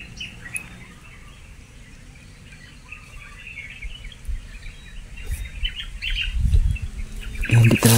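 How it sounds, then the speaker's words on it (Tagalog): Birds flap and chirp in a forest, with faint scattered calls over steady background ambience, then a louder burst of fluttering wings close by near the end. "parang ibon yun ni Commander Isol"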